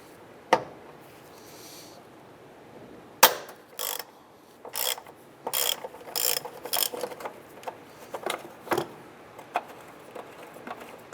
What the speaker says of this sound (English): Using a T50 Torx bit, I want to go ahead, loosen, and remove this post.